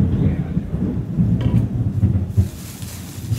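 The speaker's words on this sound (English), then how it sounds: "can you hear that thunder?" Deep, rolling thunder rumbles continuously, loud and heavy, with a faint hiss of rain or wind above it.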